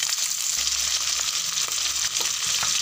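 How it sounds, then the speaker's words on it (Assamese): Fish pieces frying in hot oil for a masala fish curry, a steady close crackling sizzle that runs unbroken with no voices. "এয়া প্ৰথমতে মই মাছখিনি একদম ৰঙা কৰি ধুনীয়াকৈ ভাজি লওঁ"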